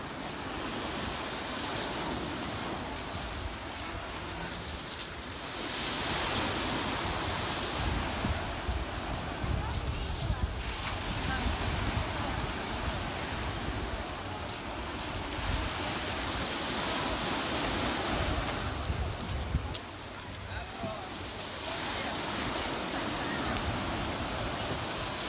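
Sea waves on a Turkish beach roll and wash ashore in a steady, broadband rush with swelling surges, heard at moderate level with wind-like hiss throughout.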